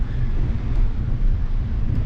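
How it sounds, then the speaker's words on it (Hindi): Low, buffeting wind roar against the microphone while cycling a long road ride from Kharghar to Lonavla, a steady rumbling gust with no talk over it. "अभी तो ये लेफ्ट से राइट हवा चल रही है"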